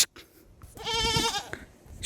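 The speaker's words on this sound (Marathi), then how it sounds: "शेळ्या वरडायला लागलेत" Goats bleat close by in one drawn-out, wavering cry that swells and fades, set against a quiet farmyard with a few soft knocks before and after.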